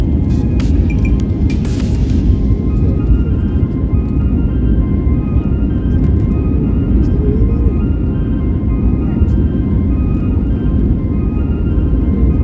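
Wizz Air jet taking off from London Gatwick bound for Naples, a steady loud roar of engines and rushing air heard from inside the cabin, constant and unbroken throughout.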